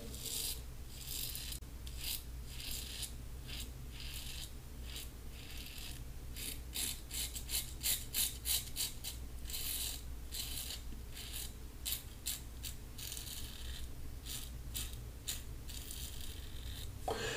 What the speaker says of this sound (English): let's go ahead and start shaving the Wizamet number W-11 on setting number 6 for the first pass